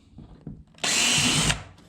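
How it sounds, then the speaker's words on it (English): Power drill driving screws to install a Yakattack MightyMount on a Bonafide 127 kayak: one loud, steady whir of under a second after a few light clicks, then quiet. "I'm going to drill them all out."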